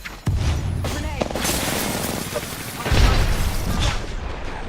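A grenade goes off in the shooter game Apex Legends, a sharp boom followed by a rumbling blast and a second heavy burst of explosive noise a few seconds later, with game voices mixed in.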